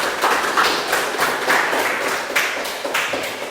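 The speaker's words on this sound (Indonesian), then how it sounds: "silakan kasih tepuk tangan dulu atau semangat untuk teman kalian yang ada di sini" A student audience claps for classmates at a group presentation session, giving a sustained burst of many hands with crisp, dense slaps that carries on steadily to the end.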